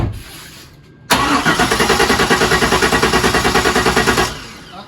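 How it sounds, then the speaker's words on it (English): A Corvette C5 engine cranking over without firing, the starter churning in a steady rapid rhythm for about three seconds after a quiet pause, close and loud, then stopping. "But let's crank it over"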